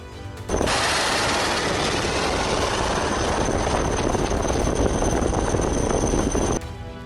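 Helicopter engine and rotor roar from a naval anti-ship missile test launch over the Bay of Bengal, a loud, steady broadband wash starting abruptly and holding for about six seconds, then cutting off.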